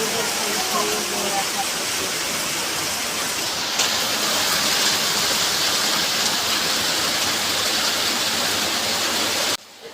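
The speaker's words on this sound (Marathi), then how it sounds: "मुंबईला पडतो आहे भरपूर सारा पाऊस पडतो आहे" Dense, steady rush of heavy monsoon rain pouring continuously in Mumbai, loud and close, cutting off abruptly at the end.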